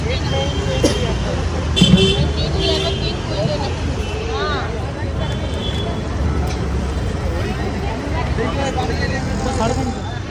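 Road traffic with passing cars and a bus runs steadily at a moderate level, with a brief horn toot and background voices chattering over the hum.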